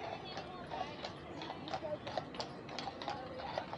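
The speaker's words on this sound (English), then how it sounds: "Let's look at the horses." Horse hooves clip-clop on a street at Henry Ford's Greenfield Village, a few sharp knocks over steady crowd chatter and outdoor background noise.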